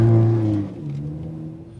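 Ford Fiesta ST or Focus ST engine on a race track at low speed, a steady close drone with clear harmonics that is louder at first, then settles to an even, slightly lower hum with the throttle held.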